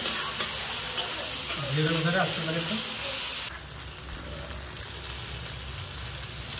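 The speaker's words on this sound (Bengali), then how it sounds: "এই হলুদ দেওয়ার পরে একটু কষিয়ে নেবেন, পুরো যাতে ভালো করে মিশে যায় হলুদটা।" Turmeric being stir-fried in a pan, a steady close sizzle and hiss with stirring scrapes; a brief voice-like tonal burst sits in the first half before the frying noise drops slightly and continues evenly.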